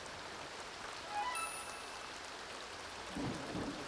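Soft, steady rain falls in The Sims 2 as a faint, even hiss, with a few brief chime-like tones and a low rumble near the end.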